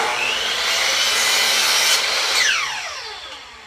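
A chop saw cuts through a piece of wood for a bee escape, one short loud whining cut that rises and then fades as the blade spins down, heard close with no voices.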